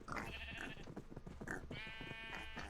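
Sheep in a pen in the game TerraFirmaPunk bleat twice, wavering nasal calls over low background rumble. The pen also holds cows and pigs.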